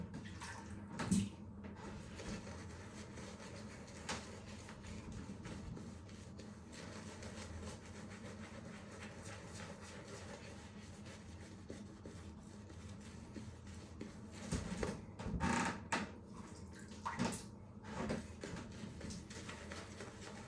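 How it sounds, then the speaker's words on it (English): Water runs steadily from a tap into a shaving bowl, a continuous close hiss and splash that swells with a few louder gushes near the end. "Let's get the water in there."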